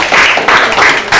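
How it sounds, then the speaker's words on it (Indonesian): A short burst of group clapping from participants after a peanut game at an environmental education workshop at Tasik Payawan, Central Kalimantan, in 2007, loud and close, rising and falling in uneven waves over about a second. "Kita tepuk tangan dulu untuk semuanya"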